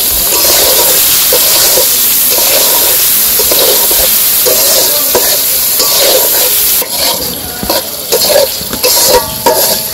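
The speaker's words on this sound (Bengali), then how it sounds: "অল্প কয়েকটা পেঁয়াজ দিয়ে দিই সাথে ভাজার জন্য" A few onions frying in oil alongside eggs in a village-style kitchen, loud close sizzling with rhythmic stirring scrapes, the hiss thinning in the last few seconds as the stirring turns clattery.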